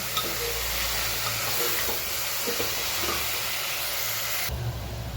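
Masala sizzles and fries loudly in a hot pan while being stirred, a dense continuous hiss with scraping stirs throughout, close and without speech.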